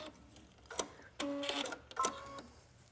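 Sewing machine stitching a bishop sleeve, running in a few short bursts of rapid mechanical whirring with brief pauses between them, close and moderately loud.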